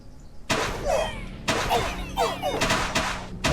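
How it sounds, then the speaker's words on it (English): Explosions going off in the 9 Kings strategy game, a run of sharp crackling bursts landing roughly once a second, close and loud with shattering debris tails, no talk over them. "look at them explosions"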